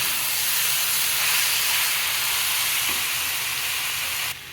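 Poppy seeds, white sesame and tomato sizzle with fried beetroot in a pan, a loud, steady hiss close up with no talk, cutting off abruptly at the end.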